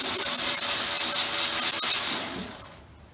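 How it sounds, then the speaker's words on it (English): Close-up mechanical working sound from loosening the motor belt tensioning screw on a Felder AD741 jointer planer, a steady broadband tool noise that tapers off near the end. "loosen the tensioning screw"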